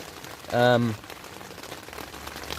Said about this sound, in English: We're in a tent and it is raining